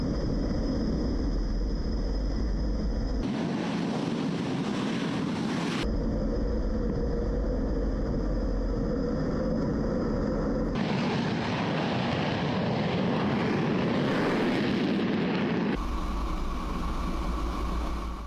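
A military jet fighter roars down the runway on takeoff, a loud, sustained engine blast whose tone shifts in several abrupt sections, with no voices over it.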